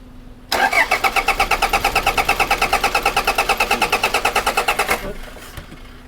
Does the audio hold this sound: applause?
no